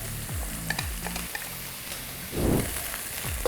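Vegetables and cabbage, including red and yellow peppers, frying in olive oil in a hot pan, with steady sizzling broken by a few stirring scrapes and a louder burst of crackling partway through, no talk.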